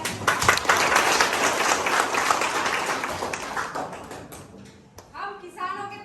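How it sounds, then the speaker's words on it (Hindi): An audience applauds farmers at a student speech event marking Kisan Diwas and Chaudhary Charan Singh's birth anniversary. Sustained group clapping fades out, and a speaker's voice follows near the end. "तालियां हो जाए।"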